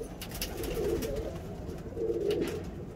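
Breeder pigeons coo in two soft, rolling bursts, close and steady over a dull background hum.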